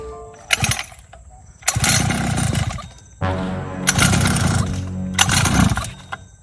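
A motorized bicycle's small engine being pedal-started, several loud bursts of sputtering, rattling engine noise that catch briefly and die out between pauses, with repeated failed attempts.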